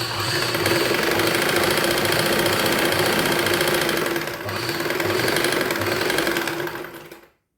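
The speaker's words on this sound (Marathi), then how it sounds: "आणि आता शिलाई करून बघूया." Household sewing machine stitching a piece of cloth, its needle clattering in a fast steady rhythm with a short slowdown midway before it stops abruptly.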